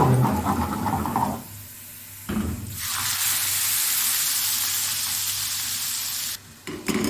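Red chili tadka sizzles loudly in hot oil for a dhaba-style dal chana fry, a short burst of frying giving way to a sustained, steady hiss that cuts off near the end.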